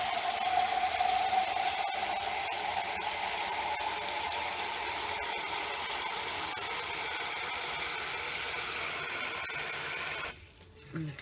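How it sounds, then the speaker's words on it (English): Water from a sink tap runs steadily into a measuring cup for about ten seconds, a continuous close hiss and splash that stops abruptly near the end. "I usually put the pot under the sink, fill it up with water."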